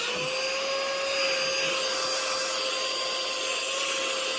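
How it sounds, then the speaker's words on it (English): A hoover vacuum cleaner runs steadily while scraps are tidied up after a smoke generator installation in a model Class 55 Deltic locomotive, giving a continuous close whine with a fixed tone and no speech over it. "let's get the hoover out again"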